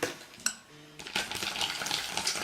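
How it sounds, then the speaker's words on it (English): A utensil stirs dog food mixed with salmon oil in a bowl, making close, light clinks and wet scraping sounds that turn into a continuous scraping stir. "I give this a good stir"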